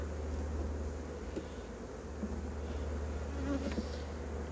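Honeybees drone steadily and fairly close around a hive during beekeeping work with new comb foundation, a continuous low buzz with a few faint clicks and brief touches.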